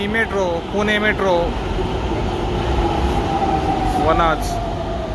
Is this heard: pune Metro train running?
yes